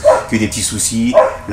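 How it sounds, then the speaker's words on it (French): An Australian shepherd barks in short, repeated bursts close by, mixed in with a person speaking French over it. "L'aboiement, par contre, me fait dire beaucoup de choses."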